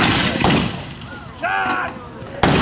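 Gunfire bursts at a Eureka Stockade historical reenactment: a sharp report, then another heavy blast after a pause, with a third at the end. Voices shout and talk between the shots in an outdoor setting.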